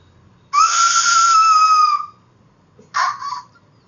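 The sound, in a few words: whistle being blown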